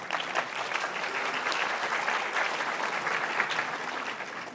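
Audience applause at a talk on flavor and fermentation in Noma's fermentation lab, a steady even clapping from a crowd that holds at moderate level throughout.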